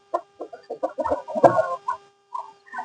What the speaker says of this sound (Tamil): பெரிய சேவல் இது வந்து ஒரு காக சேவல்